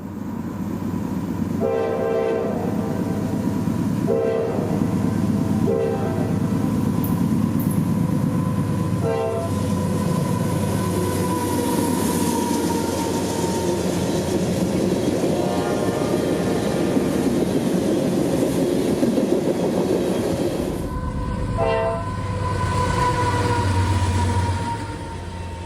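A CSX freight train led by a rebuilt locomotive rumbles steadily past close by at night, wheels clattering, with repeated loud horn blasts sounding over the roar.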